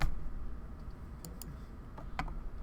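Quiet, sparse clicks of a computer mouse or keys during a meetup, a few sharp isolated taps over a soft room hum, with no one talking.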